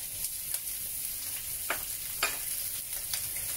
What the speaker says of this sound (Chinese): 係啦，我稍微咁煎一煎佢咧。